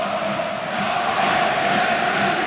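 Football crowd at the Veltins Arena during a Schalke versus Manchester United Champions League match roars as a steady, distant wash of massed voices, with no clear individual words standing out.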